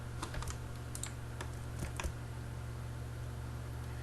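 Quick bursts of keystrokes on a computer keyboard, close and fairly quiet over a steady background hum, with short pauses between clusters of clicks.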